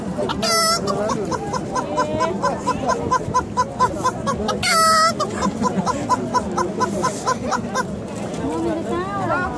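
A girl imitates a chicken with a run of rhythmic, close clucks broken by two sharp squawks, while other voices chatter around her.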